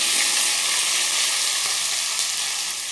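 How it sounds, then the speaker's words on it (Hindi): Finely chopped green chillies and ginger hit a hot pan on a low flame while green chilli sauce is being made, giving a loud, steady, even sizzle that lasts throughout with no talking. "अब इसमें हम ये हरी मिर्च और अदरक डालेंगे जो हमने काट के रखी है बारीक"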